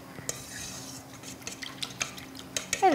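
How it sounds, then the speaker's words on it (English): Ingredients stirred and mixed in a bowl by hand outdoors at a beach, with irregular clinks, scrapes and wet squelches close to the microphone. "Mix it up."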